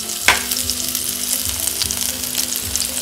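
Hot oil sizzles steadily in a pan while ambarella fruit curry is being made, a dense close crackle with a sharp clink near the start and soft stirring scrapes underneath.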